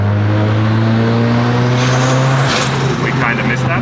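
A turbocharged 4A-FE engine in a first-generation Toyota MR2 AW11 drones loudly inside a tunnel, holding a steady, strongly harmonic tone before the pitch drops and shifts partway through, followed by brief bursts of higher noise.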